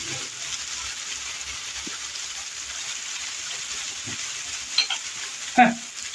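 Mushrooms fry in a pan while being stirred, a steady soft sizzle running throughout with a few brief scrapes and clinks of the utensil near the end.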